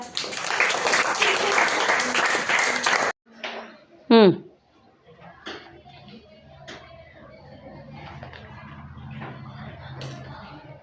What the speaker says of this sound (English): Clap for Harsha.